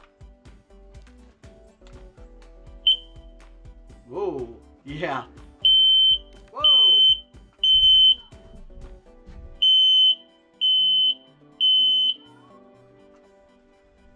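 A combined carbon monoxide and smoke detector under test sounds a series of loud, shrill, piercing beeps in evenly spaced bursts, repeating close by after a few short chirps, with a person's surprised exclamations in between.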